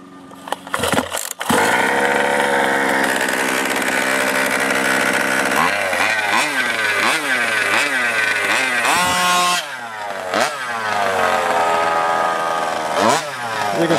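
Losi 5ive-T RC car with a freshly rebuilt small gas engine starting up and running loud and close, with rapid buzzing revs rising and falling repeatedly over a steady rattly idle, and no talking.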